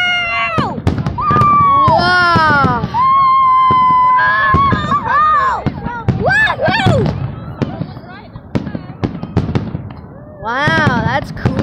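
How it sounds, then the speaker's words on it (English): Fireworks explode in a dense run of sharp pops and bursts while excited voices talk and shout over them nearly throughout. "watching the fireworks"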